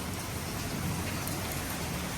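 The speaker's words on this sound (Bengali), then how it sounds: "এখন এই যে দেখো কি বৃষ্টি নামছে" Steady, dense rain pattering down during a storm, a continuous even wash of drops with no pauses or voices.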